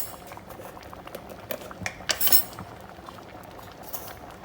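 Dhal curry with turmeric and salt simmers in a pot, giving a steady soft bubbling with a few light clinks of a utensil against the pot, loudest briefly near the middle. No one speaks.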